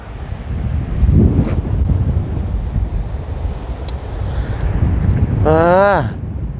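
Wind buffets the microphone at a seashore in Japan, a constant roar with the wash of ocean waves beneath, and a short rising vocal sound cuts through near the end.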